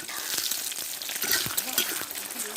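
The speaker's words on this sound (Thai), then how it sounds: "ทอดไข่เจียว กับข้าวง่าย ๆ" Continuous crackling sizzle of an omelette frying in oil in a small pan, steady and close, with occasional pops and scrapes.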